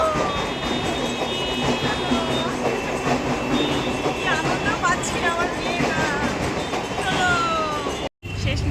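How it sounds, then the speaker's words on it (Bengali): A train rumbles past nearby with continuous rolling clatter and occasional high wheel squeals, loud and steady throughout. "এই দেখো ট্রেন যাচ্ছে"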